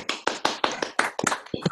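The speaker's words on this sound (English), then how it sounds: "More vigorous clapping." Clapping from a handful of unmuted participants on a Zoom call, several bursts of claps in quick succession, close and fairly loud with no talking.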